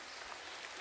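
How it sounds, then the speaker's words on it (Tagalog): Rain falls outdoors in a natural spot beside a small stream, a faint, soft, continuous patter with no distinct drops or voices standing out. "Hala, umuulan na."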